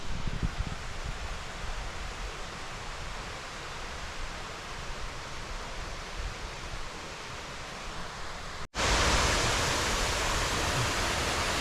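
A clear creek near Virgin Falls flows steadily in a broad, even hiss of running water, close and continuous with no speech, then jumps louder and brighter near the end.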